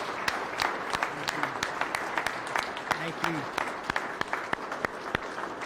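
Moderate audience applause at a city economic development news conference in Murfreesboro, Tennessee, steady scattered clapping for several seconds with a brief spoken thank-you over it.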